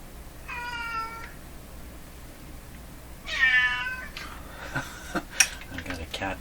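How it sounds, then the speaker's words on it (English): An upset cat meows twice, a drawn-out cry early on and a louder one a few seconds later, close by, followed by scattered clicks and clatter, with no talking. "I've got a cat that's upset at me."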